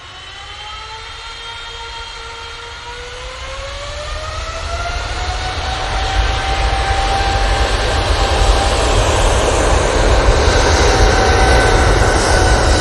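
Jet airliner at Manchester Airport, a loud, steady roar with rising and falling whine tones that swells over the span as the plane draws nearer, heard alone with no talk.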